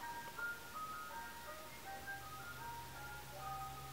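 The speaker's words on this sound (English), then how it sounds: "And right now, hold on, the ice cream truck." A passing ice cream truck plays its tinkling melodic jingle, faint and distant over steady background hiss, with no talking.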